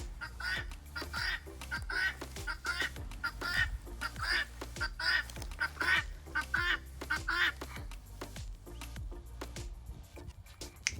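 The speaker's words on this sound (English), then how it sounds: "Those guineas just do not shut up." Guinea fowl in a backyard winter garden enclosure call over and over in harsh, repeated bursts, loud and fairly close, with a steady rhythmic chatter that fills the whole stretch before easing off near the end.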